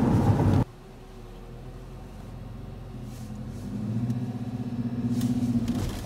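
A manual-transmission car cruising fast in top gear, a steady low engine drone and road rumble inside the cabin that swells slightly louder toward the end.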